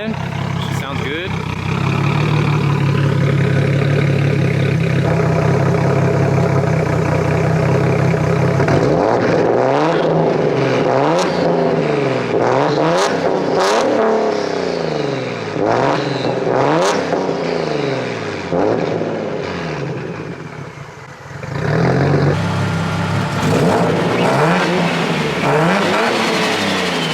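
A turbocharged Nissan Z car's engine idling with a steady rumble, then revved repeatedly in sharp rising bursts, dropping back to idle near the end; someone talks briefly close by.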